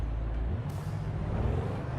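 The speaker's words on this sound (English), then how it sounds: "Oh, I love the sound of this Audi" Audi engine in a driving video game, a loud, deep, continuous rumbling drone with a steady low growl and no pauses.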